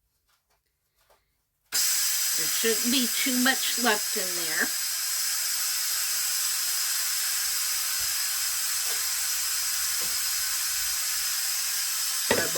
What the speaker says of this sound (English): All I have to do is hit cancel and then hit quick release and hit start